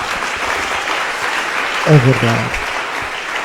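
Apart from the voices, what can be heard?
audience applause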